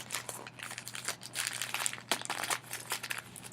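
Newspaper pieces crinkling and rustling close up as they are handled and joined with masking tape, an irregular run of crisp paper crackles with no talk.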